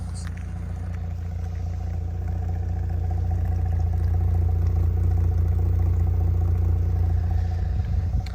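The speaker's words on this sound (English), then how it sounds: "Give you a quick listen to the exhaust." A 2019 Audi S4 3.0T V6 idling: a steady, low burbly exhaust rumble close to the mic, continuous and even throughout with a slight rise midway, no talking.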